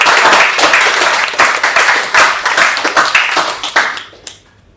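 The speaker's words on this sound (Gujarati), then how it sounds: "ફરી એક વખત જોરદાર તાળીઓ" Audience applause at a Women's Day stage event, dense clapping that breaks into uneven bursts and thins out before stopping abruptly near the end, leaving quiet.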